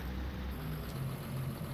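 A tractor engine idles at a low, steady rumble in Farming Simulator 19, quiet and continuous with no other sounds.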